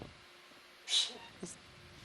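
A single short, sharp sneeze bursts out over quiet background hiss, followed by a faint breathy sound.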